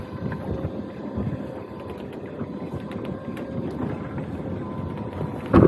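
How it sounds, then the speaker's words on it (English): Wind picks up aboard a lobster boat: a steady, rumbling gusty roar and microphone buffeting over a low engine drone, louder at the very end. "I feel that wind's already starting to pick up a little bit."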